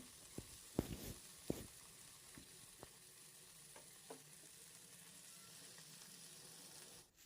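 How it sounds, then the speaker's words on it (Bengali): Taki fish frying in a pan makes a soft, continuous sizzle, broken by a few sharp clicks and taps of a spatula turning the fish, close by and fairly quiet. "মাছটা কিন্তু একটু কড়া করে ভাজতে হবে"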